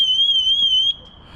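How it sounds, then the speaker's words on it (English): A Vanguardian motorhome alarm sounds a loud, piercing steady tone close by that cuts out abruptly after about a second, leaving a faint fading ring. "Powerful alarm, isn't it?"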